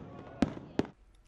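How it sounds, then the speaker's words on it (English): Fireworks go off over Yokosuka, Japan, with two sharp booms about a third of a second apart, heard at moderate distance against a low background murmur. "Japanese and Americans ended the day with a fireworks display from the city of Yokosuka."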